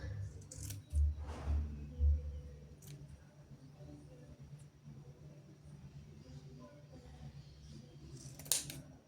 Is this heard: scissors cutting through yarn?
yes